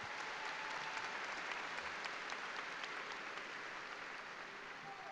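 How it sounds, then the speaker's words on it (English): Steady applause from a large audience at a high school commencement ceremony, even and continuous throughout, heard at a fair distance and rather faint. "Let's give all of our speakers and performers a round of applause."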